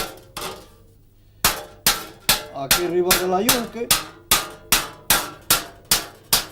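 A hammer strikes metal on an anvil in a steady rhythm of sharp ringing blows, curving the metal cold in traditional forging, with someone speaking briefly between the strikes.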